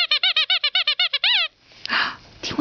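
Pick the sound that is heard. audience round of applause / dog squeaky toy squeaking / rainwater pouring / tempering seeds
dog squeaky toy squeaking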